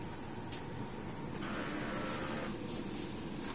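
DTF printer running a print head cleaning cycle, a faint steady hiss and mechanical whir with small shifts in pitch, heard alone without talking.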